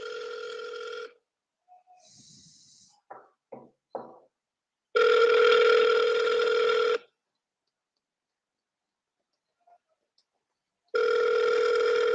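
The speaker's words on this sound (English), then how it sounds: "Somebody's going to answer this phone and they're going to sign a contract with me on this next call." An outgoing telephone call rings out in three long, loud ring tones separated by silence, with a few faint clicks and rustles between the first two.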